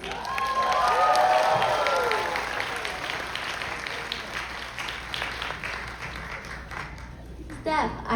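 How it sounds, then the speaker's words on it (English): An audience applauds contestants at the VSAUCI Rose Pageant with a sustained burst of clapping, scattered cheers and voices, loud at first and then gradually thinning out. "Can we get a round of applause for our beautiful roses?"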